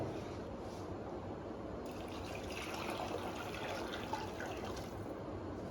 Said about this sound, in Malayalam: ഇളം ചൂടുവെള്ളം ഒഴിക്കുക